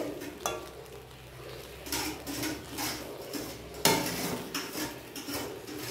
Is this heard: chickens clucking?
no